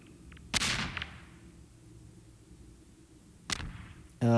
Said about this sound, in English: Just start chucking some grenades.